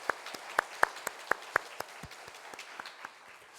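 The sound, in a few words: congregation applauding to welcome newcomers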